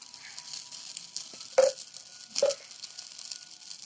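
A wheat bun dosa fries in oil on a pan with a soft, steady sizzle, broken by two louder bursts as oil is poured on or the dosa is pressed.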